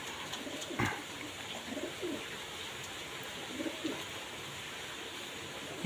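Soft, low coos from a black hen pigeon and a male pigeon repeat every second or so beneath a steady hiss, with one brief sharp knock near the start.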